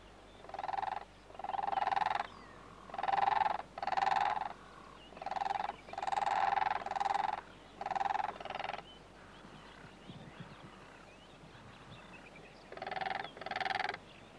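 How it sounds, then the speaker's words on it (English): Two cranes at a Namibian waterhole, alarmed by a lion hidden in yellow grass, give loud, close, harmonic honking calls in short repeated bursts, often paired, with a brief pause before the calling resumes. "The sight of a lion nearby, hidden in the yellow grass, alarms these two cranes into calling and dancing."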